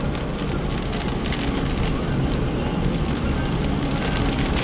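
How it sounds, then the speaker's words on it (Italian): Heavy rain downpour drumming steadily on a car while driving, a dense, loud, continuous hiss and patter with no pauses. "E davanti a me il diluvio"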